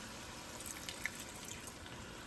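A small splash of apple cider vinegar pours onto onions, a brief soft liquid trickle against steady kitchen background noise, with no talking.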